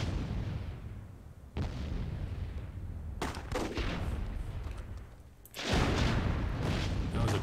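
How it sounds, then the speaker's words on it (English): Grenade explosions and battle fire in the fantasy strategy game Myth II: Soulblighter, a series of loud booms and crackling blasts, with a sharp burst near the start, more in the middle and a heavy sustained blast near the end. "throwing some nades"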